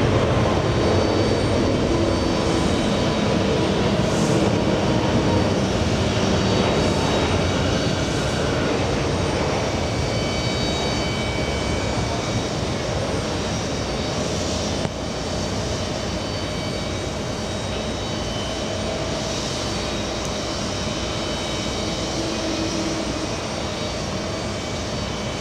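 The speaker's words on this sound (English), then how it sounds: "Early rotation there for Lufthansa." A Lufthansa airliner takes off at JFK, jet engines roaring loud and continuous, a dense broad rumble that stays strong throughout before easing a little toward the end.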